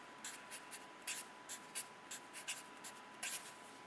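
A pen writes on squared paper in a quiet room, a series of short scratchy strokes with small pauses between them, close and faint, under a steady faint hum.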